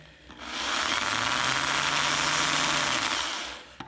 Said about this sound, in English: Take that same drill bit and drill all the way through.